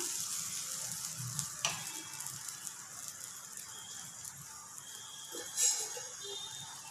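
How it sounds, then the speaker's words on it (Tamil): Mung bean sprout dosa batter sizzling on a hot griddle, a steady close crackling hiss with a spoon scraping briefly early on and a soft clatter near the end. "கல் காஞ்சிடுச்சு, தோசை ஊற்றலாம் வாங்க."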